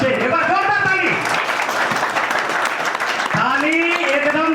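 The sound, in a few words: audience applause at a seminar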